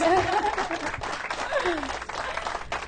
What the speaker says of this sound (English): Can Ms. Gooden get a round of applause?